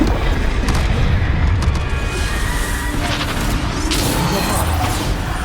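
Bombarda explosion spells in Hogwarts Legacy, a run of heavy booming blasts and crashes over a continuous loud rumble of combat noise, close and dense, with some voice mixed in.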